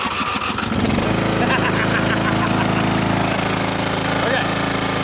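A lawn mower engine, one that sputters and dies after about five minutes, runs steadily and loudly close by, with a brief rougher start before settling into a constant droning hum.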